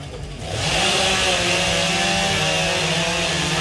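A chainsaw revs up and runs at a loud, sustained high pitch while cutting timber in a competition at an agricultural fair and horse show, steady and close after a brief quieter start.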